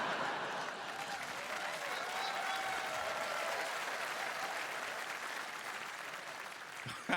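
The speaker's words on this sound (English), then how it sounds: "Regina will really appreciate that applause break." Steady, sustained audience applause fills a stand-up comedy show at a comedy festival, dense clapping holding at an even level throughout with no talk over it.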